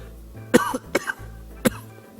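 Three sharp coughs from a dry throat, one close after another then a pause before the last, from a single person nearby against a low background hum.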